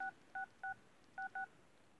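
Touch-tone phone keypad beeps tapping out part of Jingle Bells: five short dual-tone beeps in an uneven rhythm, clear and close over a quiet background.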